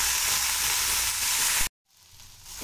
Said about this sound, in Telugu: ఇప్పుడు కొత్తిమీరని కూడా అదే నూనెలో బాగా మగ్గనివ్వాలండి